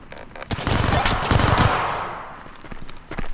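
Machine gun fire in a close-quarters video game, a loud rapid burst of shots lasting over a second, followed by quieter scattered impacts and a few later pops.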